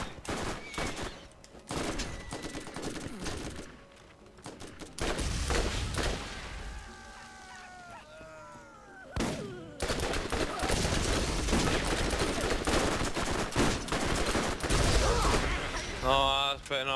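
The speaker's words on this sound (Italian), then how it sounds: "Io sparo e non colpisce il bersaglio." Gunfire in the shooter video game Borderlands, rapid bursts and single shots cracking throughout with a brief lull midway, under game effects and occasional talk.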